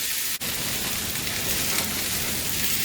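Leftover corned beef frying in oil in a pan for a Caribbean breakfast hash, giving a steady, close, crackling sizzle with a single sharp click near the start and no talking.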